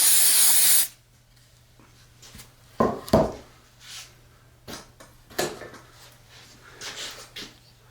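Stoner mold release spray hisses onto a resin mold in one loud, continuous burst of under a second, followed by faint clicks and handling noises.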